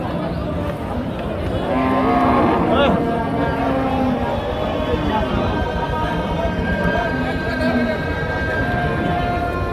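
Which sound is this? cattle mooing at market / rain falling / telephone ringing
cattle mooing at market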